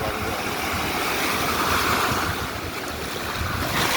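Strong sea waves breaking at Rock Beach on the Arabian Sea in Pondicherry, a loud, continuous surf roar mixed with wind buffeting the microphone, with no talk.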